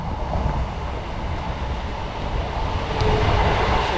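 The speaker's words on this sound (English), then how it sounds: "we've got a train going" A train rolls past on a railway line, a loud, close rumble and rattle of wagons lasting the whole stretch, with a faint squeal near the end.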